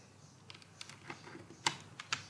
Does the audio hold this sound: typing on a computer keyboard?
yes